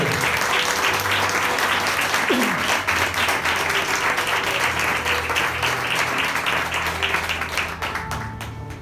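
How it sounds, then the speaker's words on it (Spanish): A church congregation breaks into loud, sustained applause during a sermon, dense clapping filling the room for several seconds before tapering slightly at the end. "¿Puedes darle un fuerte aplauso al Señor?"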